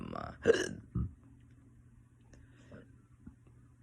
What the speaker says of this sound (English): I had my burp there